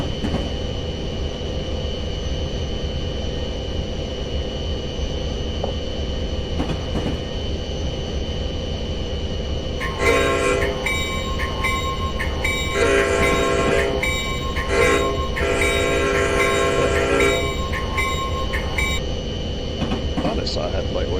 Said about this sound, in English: Passing another train.